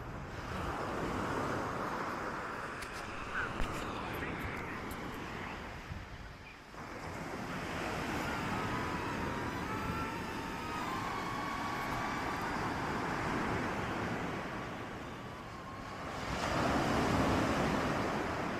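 Sea surf washing onto a shore, a steady broad roar of breaking waves with wind buffeting the microphone, swelling louder toward the end.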